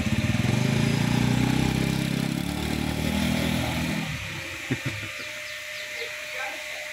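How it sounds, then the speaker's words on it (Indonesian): A freshly tuned-up Honda Vario scooter engine idles and revs nearby on a test ride with a throaty putter, then drops away to a quieter hum with a few knocks. "Lakukan test drive pada vario yang habis di tune up."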